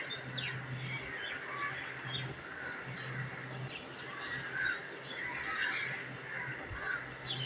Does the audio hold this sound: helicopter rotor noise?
no